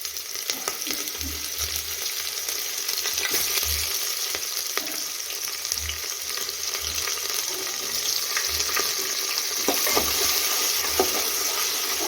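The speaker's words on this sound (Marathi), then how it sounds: "इथं आपलं तेल भरपूर असं तापलेलं आहे तर यामध्ये टाकून घेऊया हा मसाला" Masala and onion sizzling in plenty of hot oil for masale bhat, a steady dense frying hiss throughout with occasional stirring scrapes and clicks, no talking.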